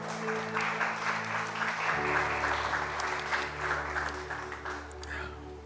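A church congregation claps steadily and loudly, sustained applause filling the space, with faint voices mixed in beneath the clapping.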